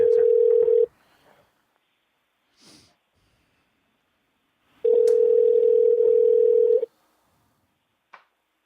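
Ringback tone on a dialed phone call waiting to be answered, two long steady rings separated by a pause with faint breathing and small noises in between.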